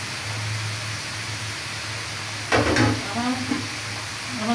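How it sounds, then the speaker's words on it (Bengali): Cabbage with peas and potatoes stir-fries in a pan under a low, steady sizzle, with a sharp burst of scraping and clatter from stirring partway through, then a few softer knocks. "আজকে বাঁধাকপি শাকটা মটরশুঁটি আর আলু ভাজি দিয়ে রান্না করব।"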